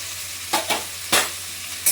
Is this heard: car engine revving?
no